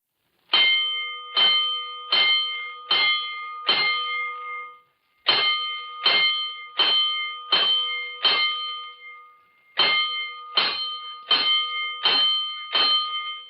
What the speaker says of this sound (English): Five bells. Stand by all stations.